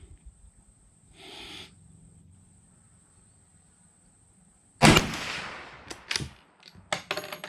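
A single sharp, loud rifle shot from a Mossberg Patriot chambered in .350 Legend, fired with 180-grain ammunition outdoors. A faint high whine precedes it, and a few fainter knocks and rustles follow.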